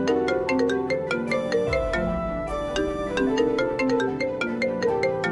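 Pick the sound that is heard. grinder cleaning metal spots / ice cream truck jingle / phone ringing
phone ringing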